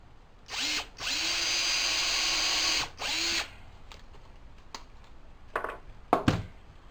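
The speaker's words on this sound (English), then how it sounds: "and drill it a little bit." A power drill bores into wood for a tapering jig, with two whirring bursts, a short one then a longer run, followed by another brief spin and some clattering handling noises afterward.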